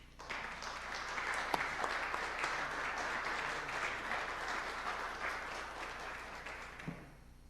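Sustained audience applause welcomes a lecturer at an academic lecture series, a dense even wash of clapping for about seven seconds that fades out at the end.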